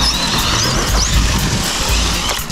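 A Team Associated Rival MT10 RC monster truck with a Hobbywing brushless motor drives hard close by, its motor whining and squealing through rapid throttle swells and tyre scrabbling over about two and a half seconds, with no voices.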